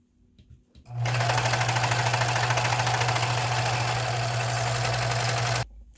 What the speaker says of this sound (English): I took time last night to make sure that I had my thread color changed and my setting to stretch. So, time to sew.